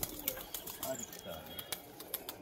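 Pigeons cooing softly in a loft, faint and repeated, with quiet voices talking nearby.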